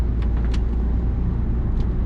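A car pulls away after the driver lifts off the accelerator, a steady low engine hum with road rumble filling the whole stretch, with a few faint higher clicks.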